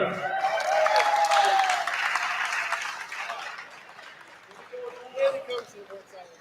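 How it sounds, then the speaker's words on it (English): Applause and crowd chatter from an audience at a powerlifting state championship, loud at first and then fading under murmuring voices and a few scattered claps. "Big round of applause, gold medal winner, Bob Bemer."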